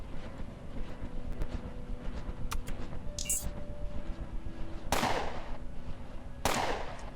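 Gunfire from a 7mm SMG in the video game Underrail, with two sharp, loud broadband bursts near the end over a steady background game ambience.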